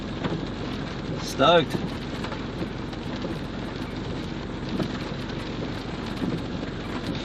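Steady rain falling outdoors by a surf beach, a constant dense hiss with a brief louder whoosh early on and a short spoken exclamation over it.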